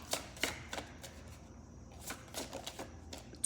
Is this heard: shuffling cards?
yes